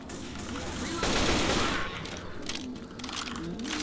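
Rapid gunfire bursts out in the Left 4 Dead 2 video game, with a dense fusillade peaking around the middle. Game noise and a voice run underneath.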